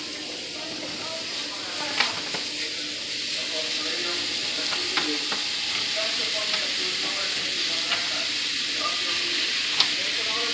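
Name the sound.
fajita meat sizzling in a frying pan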